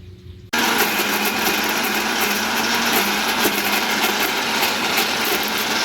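A kitchen mixer grinder grinds soaked urad dal for janthikalu batter. The motor starts abruptly after a brief quiet moment, then runs as a loud, steady, close whine and rumble with no talking.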